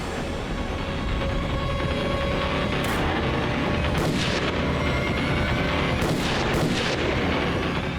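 Heavy gunfire in a tense police shootout, a dense continuous roar of shots and booms with several sharper cracks standing out, loud and close, with no voices heard.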